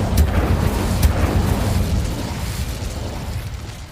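Incendio fire spell blast in Hogwarts Legacy, a loud, dense whooshing roar with a couple of sharp cracking bursts near the start, fading gradually over a few seconds without any talk.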